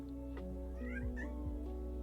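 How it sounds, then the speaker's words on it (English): A house cat gives a few drawn-out, whiny meows close by, wanting to be let outdoors, over a steady low indoor hum. "I have a whiny kitty who wants out"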